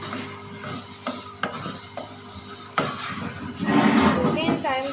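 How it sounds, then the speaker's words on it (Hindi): Spices being stirred and mixed in a pan for a home-style curry, with a spoon scraping in sharp irregular strokes over a soft sizzle, growing busier toward the end as a voice talks. "इन सारे मसालों को हम अच्छी तरीके से मिक्स करेंगे"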